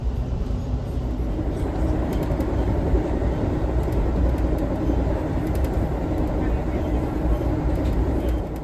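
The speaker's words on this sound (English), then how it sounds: "One of the first trains we pass is the Amtrak Auto Train" An Amtrak Auto Train passes while riding aboard a Northeast Regional train, a steady loud rumble of wheels and rail noise filling the whole stretch without clear breaks.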